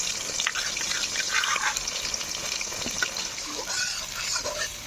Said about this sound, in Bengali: তো আমি সর্ষে বাটাটা দিয়ে দিলাম তেলের মধ্যে।